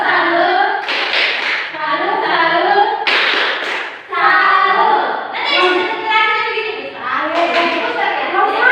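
A classroom of children and a teacher doing a salute clap together, several bursts of group clapping over loud, continuous children's voices and chanting close by.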